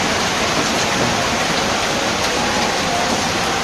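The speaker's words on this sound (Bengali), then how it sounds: "সকালে বৃষ্টি দুপুরে বৃষ্টি মাঝখানে ঘটার দুটি একটু বিরতি ছিল তারপরে তো আবার বৃষ্টি" Steady, heavy rain falls in a Bangladeshi village, a dense unbroken wash of hiss with no pauses or voices.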